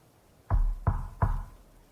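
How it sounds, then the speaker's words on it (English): Three firm knocks on a door, evenly spaced and close, each a sharp thud with a short resonant tail, heard alone against a quiet background. "Alfred knocked on the door and then opened it for Alisandre to walk in."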